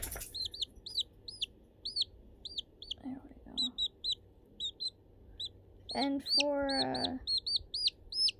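A blind chick peeps steadily in a rapid, high, repeated chirp, joined midway by a louder hen squawk; a person speaks briefly.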